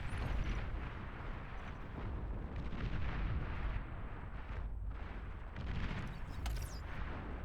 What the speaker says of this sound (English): we got artillery up